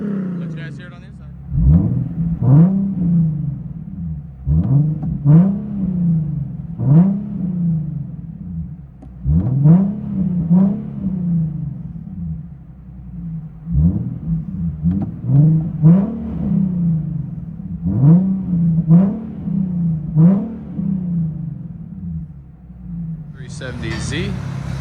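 From inside the cabin of a 2009 Nissan 370Z with its 3.7L V6 and Tomei Expreme titanium cat-back exhaust, the engine is revved in about a dozen quick blips, each rising sharply and falling back over a low, droning idle.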